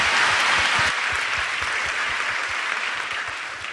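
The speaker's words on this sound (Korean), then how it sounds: "할렐루야, 우리 하나님께 다시 한번 영광의 박수 올려드리겠습니다." Church congregation applauding after a call to praise during a Korean worship service, a dense steady roar of many hands clapping that holds strong for nearly four seconds and eases only slightly toward the end, no voices over it.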